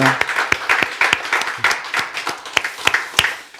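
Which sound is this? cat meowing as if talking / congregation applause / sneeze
congregation applause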